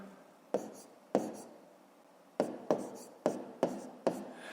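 Hand writing of numbers during a fifth-grade math exercise: a series of sharp pen or chalk strokes, about seven distinct scratches in irregular rhythm, close and clear over a quiet room.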